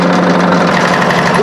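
A newly plugged-in electric sander runs with a loud, steady motor whine and rough buzzing rattle, close up and constant throughout the short stretch.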